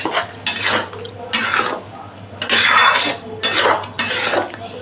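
A spoon scraping and knocking in a pan as soybean chunks and egg are stirred with masala, loud close bursts of metallic scraping in an irregular rhythm, about six strokes, with no voices.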